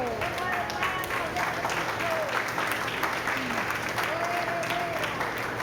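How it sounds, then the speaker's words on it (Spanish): Sustained applause from a church congregation fills the room steadily, with a hum of voices and tones underneath. "Den un aplauso, Señor."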